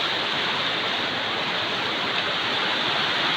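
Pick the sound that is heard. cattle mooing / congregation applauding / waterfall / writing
waterfall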